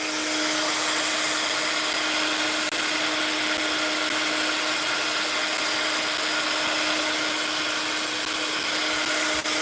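A heat tool blows hot air to dry a handmade craft card, giving a loud, steady whirring roar with a constant motor whine that lasts throughout without pause or talk.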